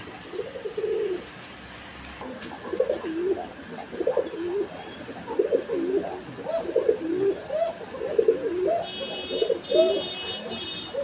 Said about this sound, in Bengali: পাকিস্তানি পেশোয়ারি জাতের একটা কবুতর